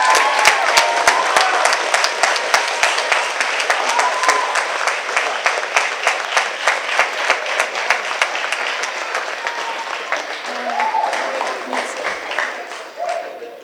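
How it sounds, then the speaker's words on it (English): Warm, sustained applause and light cheering from an audience at a school moving-on ceremony, dense clapping that holds strong for over ten seconds before thinning out. "We'll give her just a nice round of applause and a thank you"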